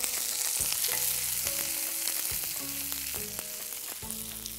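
Sliced onions and curry leaves fry in a pan with a continuous close sizzle, while low tonal hums and stirring knocks come and go underneath.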